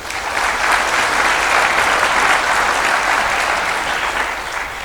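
Sustained, dense applause from a large graduation ceremony audience honoring the Dean and faculty of the EBIT faculty, steady and loud throughout with no voices standing out.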